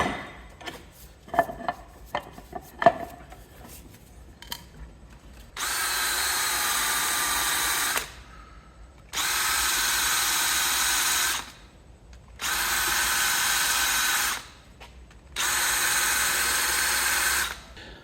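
A power tool grinds out holes in car body metal before welding, running in four sustained bursts of a few seconds each, separated by short pauses. Scattered clanks and knocks of handling come before the bursts.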